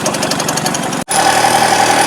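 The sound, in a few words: car engine idling while the car turns around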